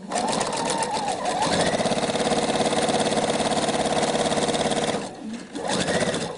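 A sewing machine stitches the hem of a kimono, a loud, steady, rapid mechanical whir running without a break for about five seconds, stopping briefly, then starting up again.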